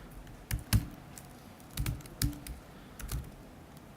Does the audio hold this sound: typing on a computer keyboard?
yes